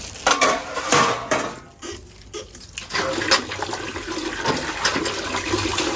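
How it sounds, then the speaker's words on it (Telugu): Dishes are scrubbed and rinsed with water: gushing, splashing water with clinks of pots and utensils, loud and close, briefly dropping away before the washing resumes. "ఇవన్నీ తోముకొని ఇంటికి వెళ్ళిపోతాం"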